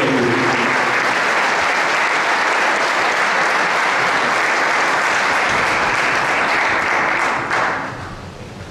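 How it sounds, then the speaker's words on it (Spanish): Loud, sustained applause from a large audience at a labor and economy forum in Bernal, a dense wall of clapping lasting about eight seconds before it begins to thin out at the end. "a quien recibimos con un fuerte aplauso, Martín Castro,"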